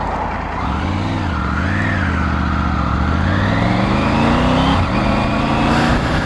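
A Triumph Tiger 900 GT Pro motorcycle with a T-plane crank triple engine drones steadily while riding at speed, its pitch rising gradually under strong wind rush.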